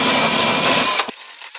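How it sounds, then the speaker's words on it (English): Dremel rotary tool stripping paint from a vintage Hubley toy car, a close, sustained high whirring grind that cuts off abruptly partway through, leaving near silence. "I use a Dremel for fine detail."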